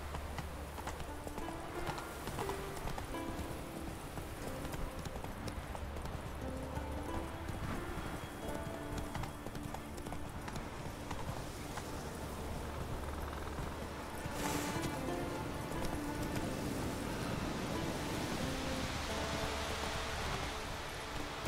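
Roach the horse galloping in The Witcher 3, steady rhythmic hoofbeats clip-clopping continuously at close range, with a game soundtrack underneath.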